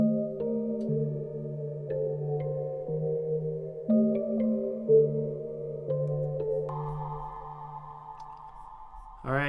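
Ambient Omnisphere synth keys layered with a slowed, halftime melody, sustained mellow chords shifting every second or so under a clear tonal lead line, ending in a short rising sweep.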